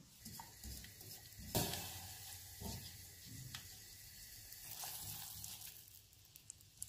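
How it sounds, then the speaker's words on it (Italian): Sugar and water simmering gently over a very low gas flame in a steel saucepan, a soft continuous bubbling sizzle with a few sharper clinks and pops, close and fairly quiet with no talk. "Portiamo tutto sul gas e lo facciamo bollire per un minuto e mezzo."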